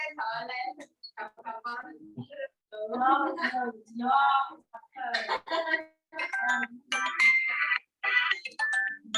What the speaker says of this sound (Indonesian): Jadi saya angkat telepon dulu ya.